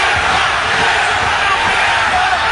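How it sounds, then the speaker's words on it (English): Crowd noise at a mixed martial arts fight with Ken Shamrock, a loud, steady roar of many voices urging a fighter on, filling the whole stretch with dense, unbroken hubbub. "The crowd urging Ken Shamrock on."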